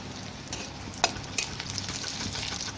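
Chopped onions and chillies fry in hot oil in a pan. A steady crackling sizzle is heard, with a few sharp pops and stirring scrapes, close by and with no talk.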